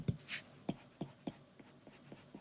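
Pencil sketch strokes scratch across paper, a run of light, quick marks in an uneven rhythm, close and faint while drawing a cartoon dog.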